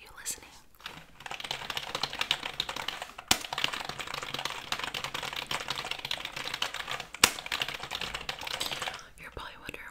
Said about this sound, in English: I'm typing just to hear some keyboard typing